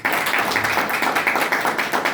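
Steady, fast rhythmic hand clapping from a group at a Hindi-language business plan presentation, continuous and fairly loud with even repeated claps and no speech over it.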